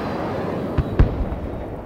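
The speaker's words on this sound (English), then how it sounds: "Oh, someone's shooting at me." Gunfire aimed at the player in Battlefield 2042, hardcore mode on the Caspian Border map: two brief, sharp cracks close together stand out over a steady game-noise bed, and nobody talks.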